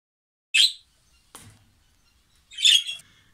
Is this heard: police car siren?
no